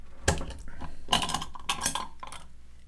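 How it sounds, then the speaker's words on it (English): A Victool 2-in-1 jar opener grips a jar lid and twists it open, giving a few sharp metallic clicks and clanks in quick bursts, close up and fairly quiet. "So I'm going to go ahead and open this and show you. Put this on the jar lid just like this."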